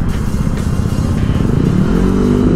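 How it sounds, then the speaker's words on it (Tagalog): A 2025 Honda ADV160 scooter accelerates loudly and close by, its engine note buzzing and rising in pitch over a couple of seconds as it picks up speed. "Malakas yung ano niya, acceleration niya."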